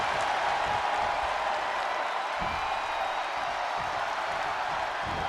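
A wrestling arena crowd at Saturday Night Main Event roars and cheers in a loud, steady wash of noise that holds for several seconds without a break.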